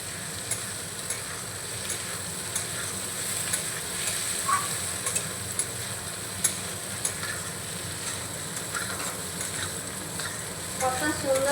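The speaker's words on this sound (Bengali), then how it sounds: "এবার ভেজে রাখা ডিমের ভুজিয়াগুলো আমি দিয়ে দিচ্ছি এখানে, ভালো করে মিশিয়ে নেব" Fried egg bhujia being stirred into cooked-down masala in a pan, a continuous low sizzle with scattered spatula scrapes and clicks throughout, close and moderately quiet, with no voices.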